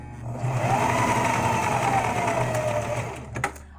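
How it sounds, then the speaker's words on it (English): Singer Heavy Duty 4452 sewing machine running a straight stitch, a steady close whirring hum that holds for a few seconds then stops, followed by a light mechanical click. "put your setting on the S, which is the middle setting for your straight stitch on your Singer Heavy Duty 4452"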